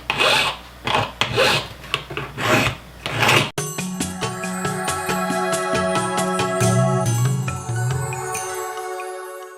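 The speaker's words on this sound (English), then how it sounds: "Now I'll file this in." A file rasps on a small cuttlebone-cast metal piece in rhythmic back-and-forth strokes, loud and close, then a long scraping pass with a ringing metallic edge.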